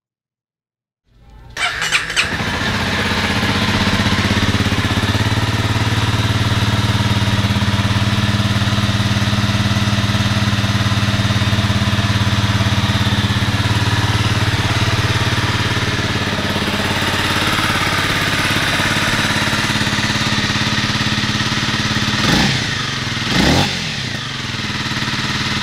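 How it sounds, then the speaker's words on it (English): A 2019 Honda CRF250L motorcycle starts up close by and settles into a steady idle for about twenty seconds, an even low engine drone with a couple of short clicks near the end. "let's go ahead and fire it up and listen how she sounds"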